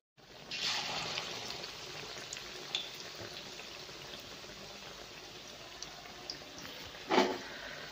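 Bread pakora frying in oil over low heat gives a steady, moderate crackling hiss that continues through the whole stretch, with a brief louder burst of bubbling near the end and no talking.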